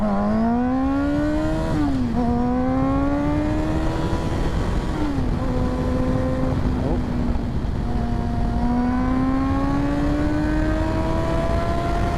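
A sport motorcycle revving loudly and continuously, its engine pitch climbing, dipping and rising again across repeated throttle blips, close by.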